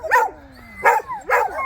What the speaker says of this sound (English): A lovely little dog.